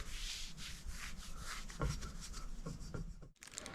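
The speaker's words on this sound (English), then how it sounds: "I'm going to take a nice clean rag. Make sure it's square. And just rub it down." A clean rag is rubbed firmly back and forth over the swingarm of a 1983 Yamaha IT 175 in a continuous soft scrubbing swish lasting several seconds, close and fairly quiet, with no talking.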